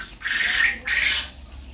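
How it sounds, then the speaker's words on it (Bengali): Quail on a farm flock of about two hundred birds give two sharp, bright squawking calls in quick succession, fairly close and clear. "আমাদের ফার্মে 200 কোয়েল পাখি দিয়ে আমরা শুরু করেছিলাম"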